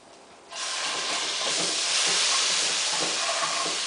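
Onions hit olive oil and butter in a saucepan and set off a sudden, loud, steady sizzle that keeps hissing, with faint stirring knocks underneath.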